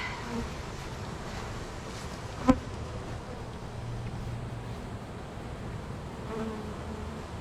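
A honey bee swarm hums as a low, continuous drone, soft and fairly distant, with a brief knock partway through and light wind noise.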